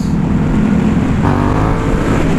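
Motorcycle accelerating on a road while weaving left and right, a steady engine drone with wind noise that rises in pitch partway through, close and continuous with no talk.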